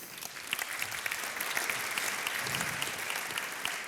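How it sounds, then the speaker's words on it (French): Steady applause from an audience at an evening awards ceremony, a dense wash of many hands clapping at an even level throughout, with no one speaking over it. "On peut l'applaudir."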